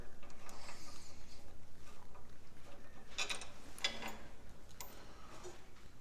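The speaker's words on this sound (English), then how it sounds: "First thing we're gonna do is get these bolts out of here." Bolts are worked loose on a one-wheel-peel go-kart raised on a lift, with a steady, rapid ratchet-like clicking at an even rhythm, fairly quiet and close, plus a couple of brief metallic knocks and no speech.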